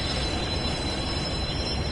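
A continuous rumbling diesel locomotive engine drone in a train simulator game, with a faint high whine above it, steady and close, with no talking.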